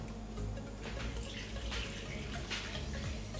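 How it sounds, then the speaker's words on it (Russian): Warm water pours steadily from a container onto a potted papaya plant indoors, a continuous close splashing and trickling throughout. "Я ее полью хорошо, потому что она у меня была пересушена очень."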